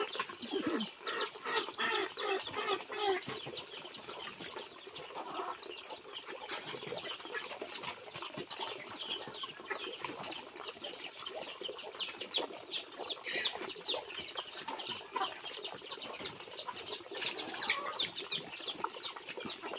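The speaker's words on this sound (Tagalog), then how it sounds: "Yung mga manok natin." Backyard chickens cluck continuously for a long stretch, a busy mix of overlapping calls with occasional wing flaps, fairly close and steady in level, with no speech.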